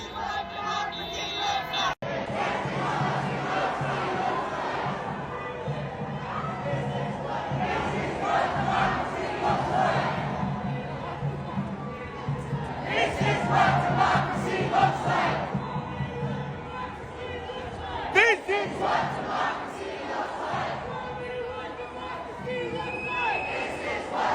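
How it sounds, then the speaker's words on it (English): A huge protest crowd of thousands chants and shouts in loud, rhythmic waves, voices swelling together, with occasional sharp bangs and whistles cutting through. "This protest goes on for at least a mile. There are thousands and thousands and thousands of people here."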